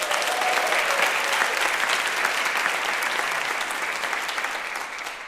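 A school district audience claps at a state-of-the-district address, a dense burst of many hands clapping that holds strong for several seconds, then gradually fades.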